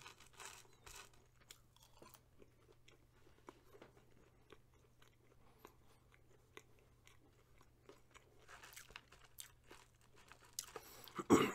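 Close-up eating of cold McDonald's fries, with soft crunchy bites and chewing scattered through a quiet room, ending in a louder rustle or crinkle of packaging.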